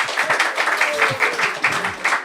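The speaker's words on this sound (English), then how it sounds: "Give him an applause." Applause from an audience at a Krishna Katha spiritual talk, a burst of clapping lasting a couple of seconds, with some voices mixed in.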